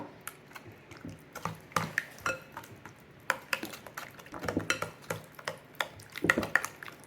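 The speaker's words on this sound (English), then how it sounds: "So we're going to mix this up." Sour cream, eggs and brown sugar being mixed in a bowl, with a run of irregular clinks and scrapes of utensil against the bowl, close and fairly quiet, no talking.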